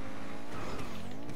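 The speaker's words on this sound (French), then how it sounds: "ma voiture a glissé" A car skids with a loud, continuous tire squeal over a roaring engine in a PS4 racing game, steady and close throughout.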